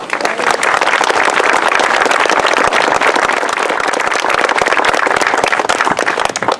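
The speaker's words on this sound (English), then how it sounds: "please, a round of applause for our commissionees" Loud, continuous applause from an outdoor audience at a commissioning ceremony on Goleta Beach, many hands clapping densely and evenly for several seconds with no break.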